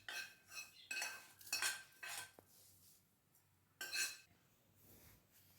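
Flattened rice being stirred with ghee in a pan for a Kerala aval vilayichath, a spoon scraping and clinking against the metal in several separate bursts with quiet gaps between.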